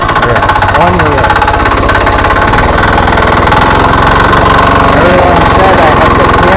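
A 196cc diesel engine on a motorized bicycle runs loud and close, a rapid rough pulsing chug with heavy vibration that continues without a break, while a voice speaks over it.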